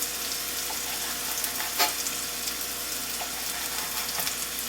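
Food sautés in a pan while pepper steak is being prepared, giving a continuous, moderately loud sizzle with faint scattered crackles and one small clatter partway through.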